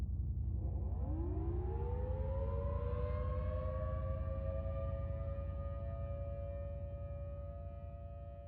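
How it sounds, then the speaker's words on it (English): An outdoor warning siren winds up from a low growl into a sustained rising wail, holding a steady tone over a constant rumble. "we heard the unmistakable sounds of our town's tornado sirens"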